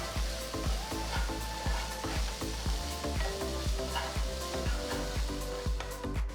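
Fresh curry leaves frying in a pan with onion and salt while being stirred, a steady close sizzle broken by regular rhythmic scraping strokes of the spoon, with no talk.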